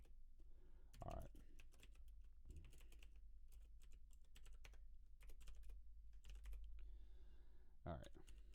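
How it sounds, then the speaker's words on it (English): Computer keyboard typing in bursts of quick key clicks, close and fairly quiet, broken by pauses and a couple of low thumps. "One of these days, I'll get this whole typing thing right."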